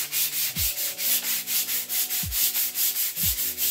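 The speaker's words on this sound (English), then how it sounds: "I just wanna lightly sand some of this blue paint." Light hand sanding of blue paint on a piece of furniture, worked with gentle pressure for an aged patina finish: quick, steady back-and-forth scratchy strokes repeat rhythmically and close up, with no talking.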